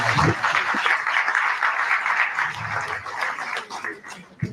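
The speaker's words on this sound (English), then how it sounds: "Let's give those people a round of applause." A conference audience at a national labour conference gives sustained applause, dense and even from start to finish, easing slightly toward the end.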